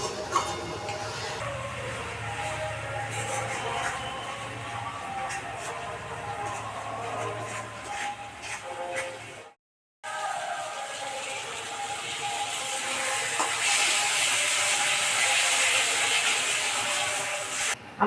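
Spices for a rui fish head and potato curry sizzle and hiss steadily in a hot pan, with scraping stirring throughout, a brief drop-out midway, and louder frying toward the end.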